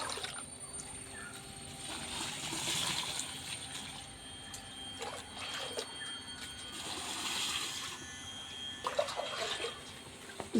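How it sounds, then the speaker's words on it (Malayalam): Water poured into a pot for a homemade chyawanprash decoction, a soft splashing trickle that comes and goes in a few bursts, fairly quiet and close, with no talk. "എട്ടിടങ്ങഴി വെള്ളം അളന്നൊഴിക്കണം"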